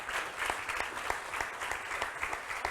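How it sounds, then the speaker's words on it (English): Audience of church congregation members at a plenary gathering applauding, dense continuous clapping from a large crowd, fairly close and even throughout. "So give yourselves a round of applause."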